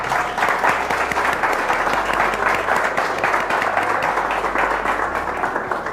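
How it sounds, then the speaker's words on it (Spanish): Dense, steady applause from a conference audience honoring a panel at a business summit on organizational culture, filling the whole stretch at an even level with a faint low hum underneath. "Un aplauso, por favor, para los panelistas."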